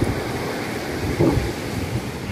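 Sea waves wash onto a beach shore in a broad, rushing surf with wind buffeting the microphone, swelling briefly midway.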